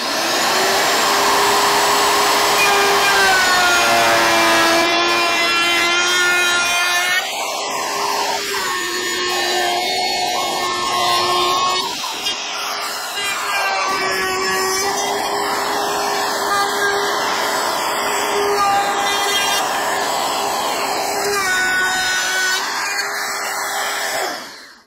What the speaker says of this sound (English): Okay, let's go to the router.